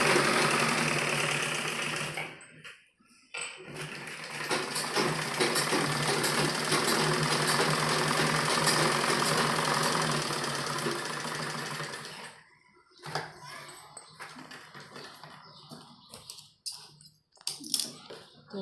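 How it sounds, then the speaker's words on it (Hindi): Sewing machine stitching along the edges of a kitchen apron, a fast continuous mechanical whir for several seconds, then stopping and giving way to short bursts and handling noises. "किनारे किनारे पर हमें सिलाई लगानी है।"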